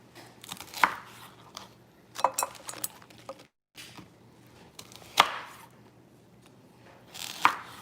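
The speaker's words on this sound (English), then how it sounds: "The little ones, I'll just cut them in halves." A knife chops through Brussels sprouts on a board, cutting them into halves and quarters, with a handful of sharp, close cuts spaced a second or two apart against a quiet kitchen background.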